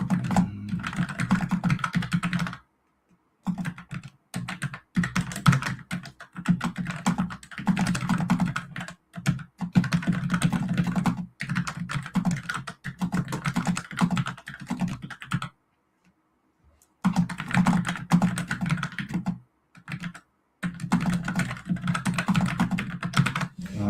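Steady clacking of keys on a computer keyboard, typed in bursts with brief pauses, close and clear with no talking.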